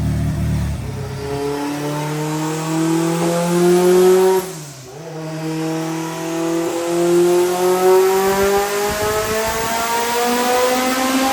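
A 700-horsepower all-wheel-drive Honda Civic on dyno rollers, its engine loud and close as it climbs through the revs in a long pull, drops briefly around a shift, then climbs again with rising harmonic whine.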